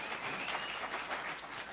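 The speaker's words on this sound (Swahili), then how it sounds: "Tumpige makofi" An audience at a political meeting in Kajiado applauds with a steady, even wash of many hands clapping, moderately distant and fairly quiet, sustained throughout without any voices on top.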